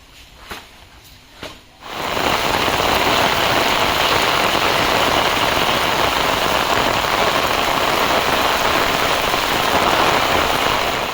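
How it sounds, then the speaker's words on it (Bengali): Heavy village rain pours down steadily after a couple of soft knocks, a dense, constant hiss that continues without a break. "বৃষ্টি আসতেছে, আজকে ভিডিও করার কাম সারা।"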